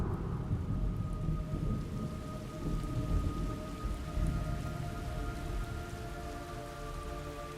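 Steady rain with rolling thunder from the video game Metal Gear Solid Delta: Snake Eater, a dense continuous downpour with low rumbling throughout, no voices.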